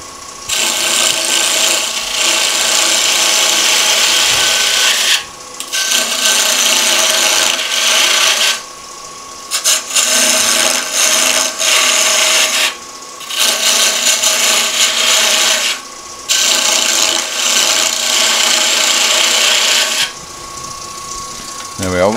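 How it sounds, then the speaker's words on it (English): Sharp beading and parting tool cutting into wood on a lathe while making a rustic stool, a loud continuous rasping scrape in long steady passes broken by several brief pauses, up close. "And then just with a nice sharp beading and parting tool,"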